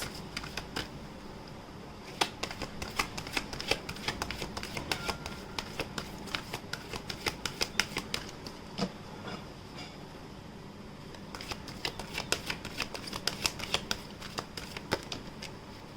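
Tarot cards shuffled and drawn from a deck, heard as a steady run of soft, close papery riffles and flicks with bursts of sharper card slaps, no voices.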